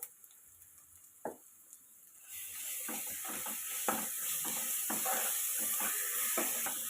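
Ginger garlic paste hits hot oil in a pan while egg rice is being made. After a few quiet clinks, a loud, close sizzle bursts in and keeps going, with scraping stirs.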